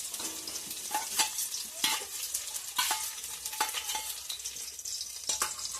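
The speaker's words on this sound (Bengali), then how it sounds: "তেলটা গরম হয়ে গেছে এবার আমি দিব এতে রসুন কুচি রসুন আর কাঁচা লঙ্কা কুচি একদম দিয়ে দিলাম" Chopped garlic and green chilli frying in hot oil for chow mein, a close, crackling sizzle punctuated by repeated sharp scrapes and taps of a spatula stirring the pan, with no talking.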